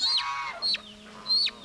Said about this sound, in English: that's a little baby chicken